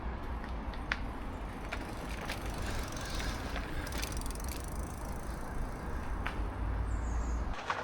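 DUOTTS N26 dual 750W motor ebike being wheeled along, its freewheel giving a steady fine ratchet ticking over low outdoor rumble, close and continuous throughout.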